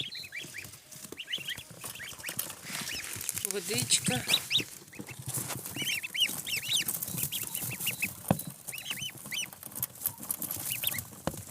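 Farmyard geese and ducklings on a smallholding in the morning, a continuous chorus of close peeping, clucking and honking calls, with a person talking now and then.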